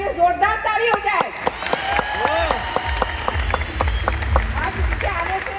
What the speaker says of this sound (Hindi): मैं चाहूंगी एक बार आलोक सर के लिए जोरदार ताली हो जाए।